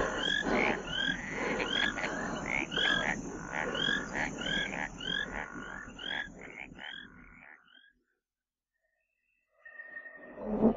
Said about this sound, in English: If those bloody frogs don't keep us.